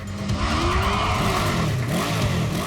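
A motorbike engine drones loudly and steadily with rising and falling pitch as it is ridden fast, with no talking.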